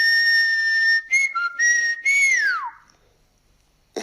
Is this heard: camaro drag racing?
no